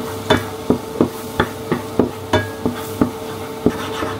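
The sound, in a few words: mixing cornstarch into a bechamel sauce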